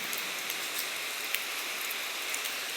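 Steady rain falls on a road after a night of heavy downpour, a dense even hiss with faint scattered drop ticks, no voices over it.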